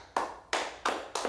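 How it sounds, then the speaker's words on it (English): Four sharp, loud hand claps land close together at an even, steady pace, each one ringing out briefly before the next. "just clap it up for Bonnie."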